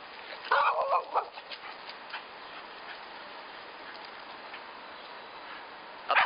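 A dog barks at a squirrel outdoors, with a short burst of sharp barks near the start and another single bark at the end, separated by quiet yard ambience.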